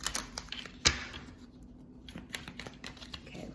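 Oracle tarot cards are shuffled by hand, giving quiet, close, irregular flicks and soft clicks with one sharper snap early on, and no speech.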